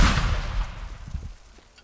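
A bomb blast in the destruction game Teardown: one loud low boom at the start that rumbles and fades over about two seconds, with a few smaller crackling debris thumps afterward.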